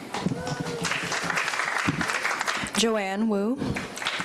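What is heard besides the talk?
audience applauding new board members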